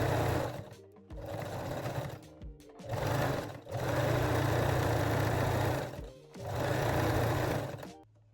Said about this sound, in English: And now fold and sew the neckline elastic first.